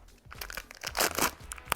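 Plastic and cardboard packaging of a LOL Surprise doll being torn and crinkled open, a quick series of close, sharp rips and crackles with no talk.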